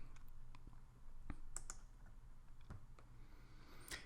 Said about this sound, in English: So again, we can just type in revenue.